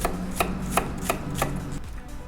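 A knife chops an onion into fairly coarse pieces for gator fried rice, giving about six crisp, evenly spaced strikes at a steady rhythm. The cuts are close and clear over a low, constant background hum, with no talking.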